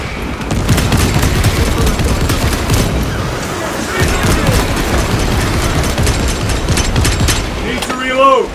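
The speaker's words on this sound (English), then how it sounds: "Throwing frag grenade!" In Space Marine 2, a frag grenade explosion erupts amid loud, continuous gunfire, dense rapid shots and booms filling the whole stretch at close range.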